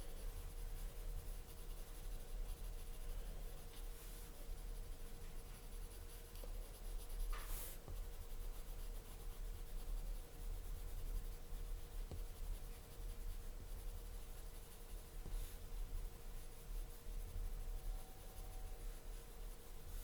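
A Prismacolor colored pencil shades on paper with a faint, steady scratching that continues without a break, the soft grainy strokes going on quietly with no voices.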